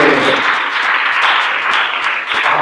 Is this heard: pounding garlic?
no